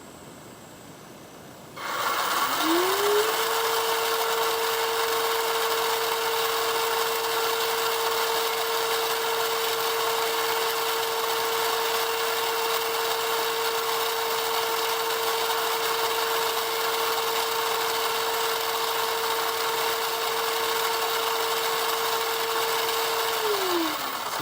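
The gearbox and stock motor of a Kyosho Blizzard RC snow vehicle spin up to full throttle and hold a steady high whine with a constant rasping buzz for over twenty seconds, then wind down at the end.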